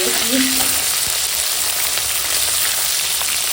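Tengra river fish lightly frying in oil, a loud, dense, steady sizzle close up, with a brief stir at the start and no voices.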